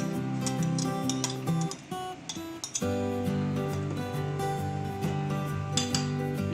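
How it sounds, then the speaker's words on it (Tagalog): Chopped tomatoes and onions dropped into a bowl, with clinks of a utensil against dishware, scraping and light knocks, close and fairly quiet, no talking. "Ilalagay na po natin sa bowl. Yun pong kamatis at sibuyas."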